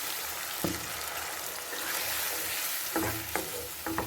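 Chicken liver masala with water added cooks in a pan, a soft continuous simmer and sizzle under a few sharp clinks and scrapes of a spoon stirring, close and quiet.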